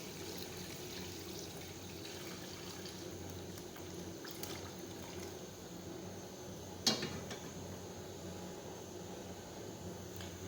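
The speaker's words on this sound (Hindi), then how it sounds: "अब मैं ये जो यखनी है इसमें डालूँगी।" Yakhni stock is poured into fried beef in a cooking pot, a faint, soft continuous liquid pour under quiet room noise, with one brief sharp clink partway through.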